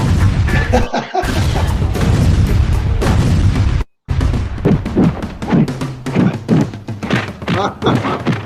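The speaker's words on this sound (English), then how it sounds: "Oh, there we go. Explosion." A booming explosion sound effect plays during a comics livestream, loud and dense, with a rumbling low end, one abrupt cut of silence and crackling bursts afterward.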